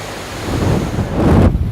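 Wastewater rushing through large rotating drum screens at a sewage treatment plant, a loud continuous broadband roar of flowing water, close and steady, with no talk over it.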